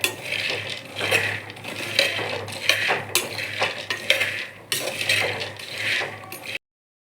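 Peanuts roasting in a pan are stirred steadily, a rhythmic dry scraping and rattling of nuts against metal repeating every second or so, close up and moderately quiet with no talking.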